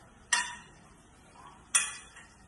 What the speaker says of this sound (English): a nice spoon of your salsa verde in there. Stir that through your vegetables.